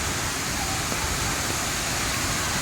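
Manpilavu waterfall roaring in heavy monsoon rain, a steady dense broadband rush filling the whole stretch, loud and continuous with no voices.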